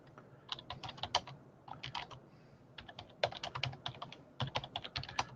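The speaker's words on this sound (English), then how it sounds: "Sorry, typing again." Someone types on a computer keyboard close by, sharp clicks coming in uneven bursts and flurries with brief pauses between, fairly quiet against a soft room background.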